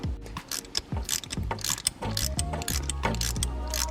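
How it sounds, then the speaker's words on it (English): A ratchet tightens header studs while fitting a budget equal-length header to a BMW E46 M3. Quick runs of close, crisp pawl clicks come in steady bursts with short pauses, with no talking. "So I'm just gonna tighten all these studs down until they bottom out"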